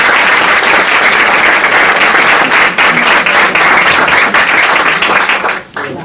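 Audience applause welcoming a speaker at a community care talk in Colmenarejo: loud, dense, steady clapping from a full room for about six seconds, cutting off abruptly near the end.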